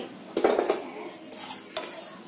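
Fennel seeds dry-roasting in a pan for Konkani masala, with a few metallic scrapes and stirring clatters of a utensil against the pan, close and brief, over a faint background hiss.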